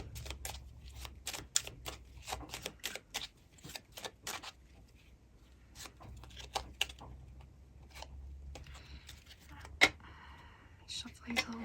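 A deck of pick-a-card reading cards is shuffled by hand, producing quiet, quick clicking and flicking taps in uneven bursts against a low background hum, with a few faint noises toward the end.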